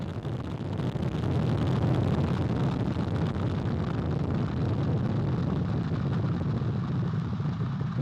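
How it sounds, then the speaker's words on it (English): Artemis 1 rocket liftoff, with four RS-25 core stage engines and two solid rocket boosters firing: a continuous, heavy, crackling roar that swells in the first second and then rumbles steadily, with no voices. "All 4 RS-25 engines on the core stage and 2 solid rocket boosters now propelling the vehicle at 128 miles per hour"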